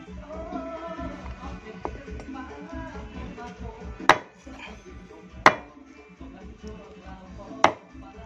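Rat feet are chopped on a board for a stir-fry, three loud, sharp knife whacks spaced a second or two apart, with quieter handling sounds and faint voices in between.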